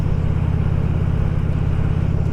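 A motorcycle cruising along a country road loop, its engine droning steadily and loudly with a deep rumble and constant wind roar, no change in pace, no voices.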